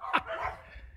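Yorkshire terrier gives one sharp, close bark followed by a brief yip while chasing a squirrel, fairly quiet and alone.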